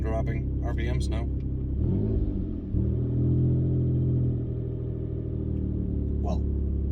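A Chevy car engine runs steadily with a deep, continuous rumble from inside the vehicle, its revs holding rather than dropping, while someone talks over it.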